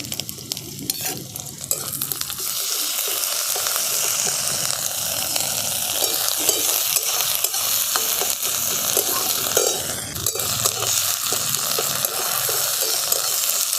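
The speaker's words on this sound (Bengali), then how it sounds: "আদা রসুন কাঁচা লঙ্কাটাকে দিয়েও আমি খুব ভালো করে ভেজে নিয়েছি" Ginger, garlic and green chili paste frying with onion in a pan, a loud continuous sizzle with stirring scrapes throughout, close and with no one talking.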